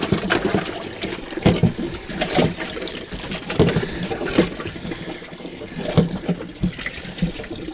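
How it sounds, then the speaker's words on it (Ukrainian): Water gushes and gurgles steadily as it drains from a float-valve cattle drinking trough, with splashing bursts and a continuous rushing flow, close by and fairly loud. "Вода зливається дуже швидко."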